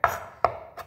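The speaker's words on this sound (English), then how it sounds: "we want to chop it so we just have a nice mince on it" Knife chopping on a cutting board while mincing salsa ingredients: two sharp, close chops followed by a softer third, evenly spaced and with no voices.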